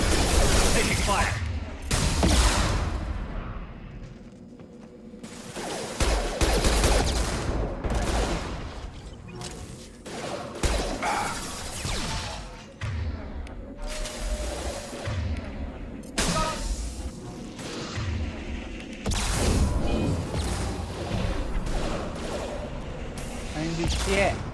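Gunfire in the video game Mass Effect 2, with bursts of shots and booming blasts coming in uneven clusters, loud and close, while a voice talks at times over the fighting.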